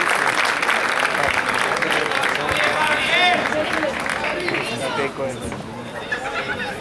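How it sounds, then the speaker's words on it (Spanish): Spectators clapping for four padel players at an exhibition match, with steady crowd applause under loud announcer talk and chatter, fading slightly toward the end. "Fuerte el aplauso para estos cuatro"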